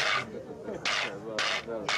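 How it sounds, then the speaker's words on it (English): A mule jawbone used as an Andean percussion instrument is scraped in three quick rasping strokes, each a short, close, dry, woody scrape with a brief pause between. "This is a mule jaw."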